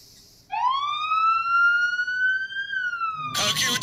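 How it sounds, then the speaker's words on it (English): A police car siren from the Higurashi video game rises and holds a steady wailing tone, loud and close, before cutting into a burst of noisy static at the end. "The siren of the police car flashed red and made a tumultuous racket."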